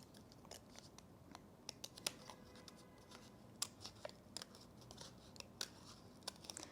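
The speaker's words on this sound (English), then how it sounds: "I've just made a little hole there, and I'm just going to cut around there now, which will make it a bit easier to cut out" Scissors cut around the shape of a cardboard bird mask, making faint, close, irregular snips and crunches in short runs over a quiet background with no talking.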